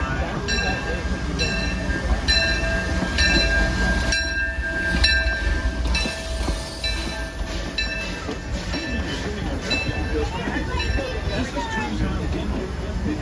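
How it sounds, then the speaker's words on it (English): Disneyland Limited train rolling into Toontown Depot at Disneyland, a steady rumble of wheels and cars with rhythmic clicking and a sustained tonal whine, while a station announcement plays over it. "Disneyland Limited, now arriving from a trip around Walt Disney Magic Kingdom"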